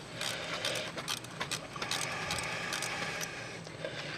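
A ratchet wrench backing out small 8mm bolts on a rear wheel brake cylinder, giving a quick series of close metallic clicks in short bursts over faint background noise.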